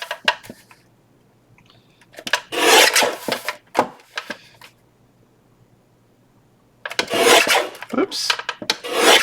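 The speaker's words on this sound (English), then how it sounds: "so I am going to trim these off. I'm just going to use my trimmer" Paper trimmer slicing through scrap envelopes, giving two bursts of close, loud rasping strokes separated by a quiet pause with no talk.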